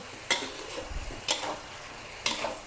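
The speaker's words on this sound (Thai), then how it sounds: "ผัดแบบพลิก ใช้วิธีการพลิกไปพลิกมา ไฟแรงเลยค่ะ" King oyster mushrooms and egg stir-fried over high heat in a pan, with the spatula tossing them in three distinct scraping strokes over a steady, close sizzle.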